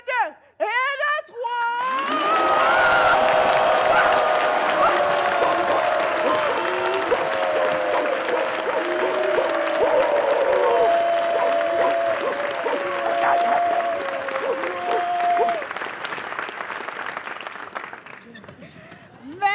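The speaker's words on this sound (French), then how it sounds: "à 3, vous allez applaudir comme si vous venez de gagner la Coupe du Monde" Comedy club audience bursting into loud, sustained applause with screams and cheers on a countdown cue, a roar that holds for about fifteen seconds then fades, after a few opening words from a performer.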